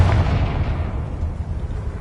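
A fiery blast from the Confringo spell in Hogwarts Legacy, a loud low rumbling boom at the start that stays heavy and slowly decays into a sustained roar.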